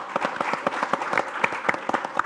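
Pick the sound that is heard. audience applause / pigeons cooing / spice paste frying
audience applause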